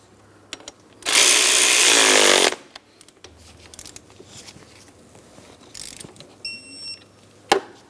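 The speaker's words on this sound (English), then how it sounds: "Now when I snug this one, I'm going to be torquing it to 37 foot-pounds." A bolt being tightened on the front torque strut bracket of a 2004-2008 Pontiac Grand Prix: a loud rasping mechanical burst of about a second and a half, then scattered light clicks and one sharp click near the end, no talking.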